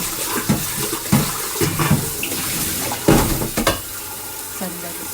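A new, large casserole pot being washed under a running kitchen tap, with steady water noise broken by several sharp knocks and scrapes of the pot against the sink.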